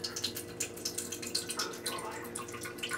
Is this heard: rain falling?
no